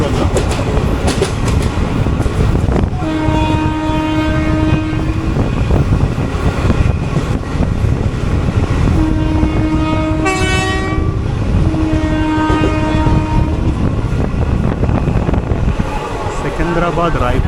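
A 17230 Sabari Express train runs on the Secunderabad–Palakkad route, with a continuous loud rumble of the moving train and repeated long horn blasts sounding in several stretches.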